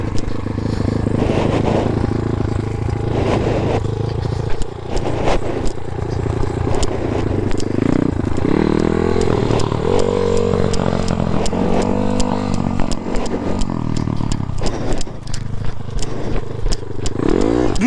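A motorcycle is revved during a beginner's clutch practice, with the engine bogging and cutting out as the clutch is let go too quickly while throttle is applied; loud, close engine noise with rattles and clatter, and people talk over it.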